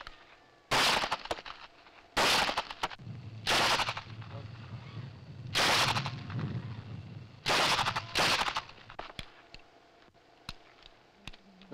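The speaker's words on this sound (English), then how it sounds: "That is the way you use your pistol in battle firing." Pistol firing in close combat training, five loud sharp shots spaced a second or two apart, each with a brief echoing tail, and a voice talking between them.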